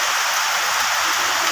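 Heavy rain pours down over a village, a dense steady hiss that stays loud and unbroken from start to finish with no voices.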